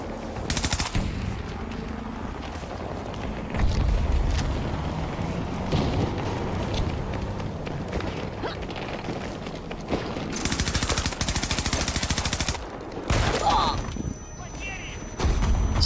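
Automatic machine-gun fire rattles almost without pause across a chaotic 128-player Battlefield 2042 battle, loud and close with several distinct bursts and impacts, while a player talks over the action.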